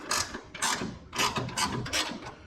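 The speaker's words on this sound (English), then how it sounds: "You can loosen these bolts and the hood won't move." Ratchet wrench loosening hood hinge bolts on a car, several quick rasping clicks in short bursts with brief pauses, close and clear.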